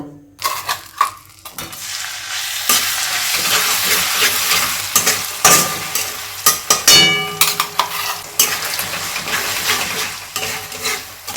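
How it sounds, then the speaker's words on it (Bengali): Ground spice paste hits fried garlic oil in a pan with a loud, close sizzle, followed by a sustained hiss and repeated clattering scrapes of stirring and utensils against the pan. "এই ভাজা রসুনটার মধ্যে কিন্তু এবার আমাদের যে বাটা মশলাটা আছে এই বাটা মশলাটা কিন্তু ঢেলে দেব।"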